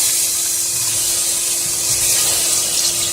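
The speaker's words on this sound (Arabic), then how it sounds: "صفيت الميه من عليها وهحطها في الحله مطرح تحمير البصل" Drained soaked rice tipped into a pot of frying onions for Egyptian kishk sends up a loud, steady, close sizzling hiss that holds evenly throughout, with no one talking.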